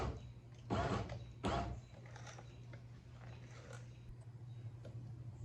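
A power window motor in a Grand Marquis, Crown Vic or Town Car door, wired directly and driving the glass. It gives a steady low mechanical hum with creaking and grinding, plus two louder broadband bursts near the start, close and fairly quiet.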